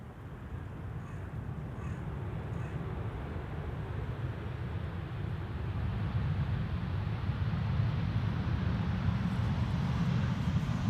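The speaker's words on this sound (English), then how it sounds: "El Al, flight 337, arriving from Tel Aviv." An El Al airliner arriving at Amsterdam Schiphol's Polderbaan runway 18R produces a steady, broad jet roar that slowly swells louder as it approaches, heard from outdoors at a distance with no talking.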